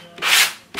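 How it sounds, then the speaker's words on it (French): Wooden furniture gets sanded by hand on one side, with two loud, close rasping strokes, the first long and the second starting just as the first fades. "là, je vais poncer un peu plus ce côté-là."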